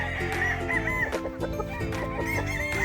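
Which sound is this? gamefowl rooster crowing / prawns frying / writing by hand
gamefowl rooster crowing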